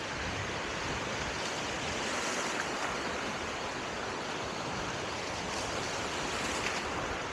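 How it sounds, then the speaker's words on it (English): Fairly big ocean waves break on a beach in a continuous, even roar of surf, with some wind noise mixed in and no voices. "There's certainly bigger waves than last time."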